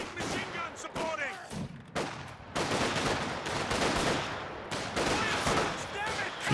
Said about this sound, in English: They have light machine guns supporting.